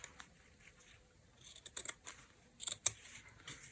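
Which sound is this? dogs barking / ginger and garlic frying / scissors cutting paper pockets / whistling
scissors cutting paper pockets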